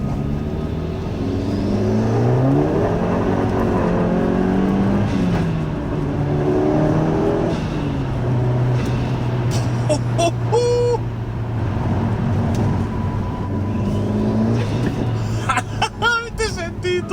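The engine of a Ford Focus RS Mk1 with 280 hp revs repeatedly, rising and falling in pitch with a throaty exhaust, while voices murmur nearby and short crackles and clicks come near the end.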